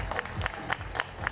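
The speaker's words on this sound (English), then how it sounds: "Big round of applause for Ani Koskiniemi," Spectators clap for Ani Koskiniemi after her strength and endurance round at the 2024 Street Workout Nordic Championship, a brief patter of separate claps in a regular rhythm from a small crowd.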